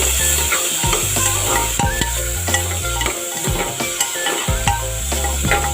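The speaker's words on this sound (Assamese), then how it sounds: "দি এতিয়া এইখিনি ভালদৰে লৰাই দিম।" Finely chopped carrots fry in a pan for pulao while a spatula stirs them, a rhythmic series of scraping strokes over a constant close sizzle.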